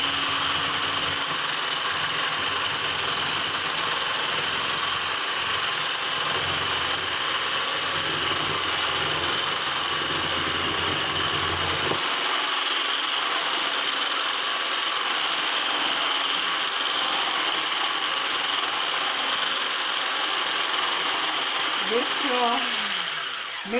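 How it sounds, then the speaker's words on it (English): An electric whisk whips a batch of lavender body butter, its steady high motor whine running continuously close by, with a deeper rumble that drops away halfway through. "I'll be using my whisk to whisk the body butter"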